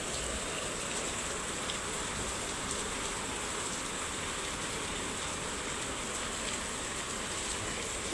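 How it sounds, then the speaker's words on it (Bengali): Heavy rain falls steadily at night, a dense and even hiss of drops that stays constant throughout with no voices. "বৃষ্টি পড়াটা একেবারে জোরে জোরে পড়তেছে"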